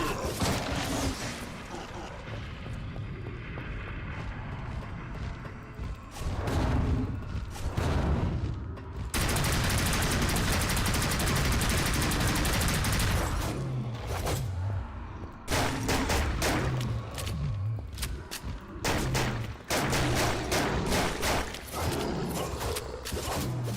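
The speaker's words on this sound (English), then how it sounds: "Oh, who's shooting at me now?" Gunfire aimed at the player in a video game, with loud bursts of rapid shots separated by brief pauses, dense and close, and mechanical clanks in between.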